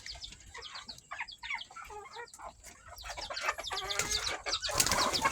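Chickens crowd around young coconut, clucking and squabbling in a busy jumble that grows louder and more excited, with occasional wing flaps among the calls.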